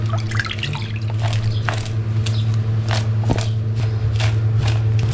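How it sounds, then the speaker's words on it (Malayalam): Salty brine draining from cut mango pieces being prepared for a traditional Kerala mango pickle, a steady trickle and scattered drips of liquid over a constant low hum, close by with no talking. "ഇത് ഞാനിതിലേക്ക് ഇങ്ങനെ ഒഴിക്കുകയാണ്. നമുക്കിതിലെ വെള്ളമൊക്കെ ഡ്രെയിൻ ചെയ്തെടുക്കണം."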